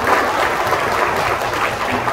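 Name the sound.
applause at a ceremony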